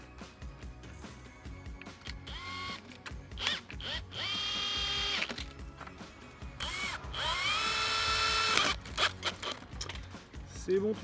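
Power drill driving screws to fix rail supports for a manual sliding shutter, several short whining bursts with rising pitch, close and loud, with talk and handling clatter between runs.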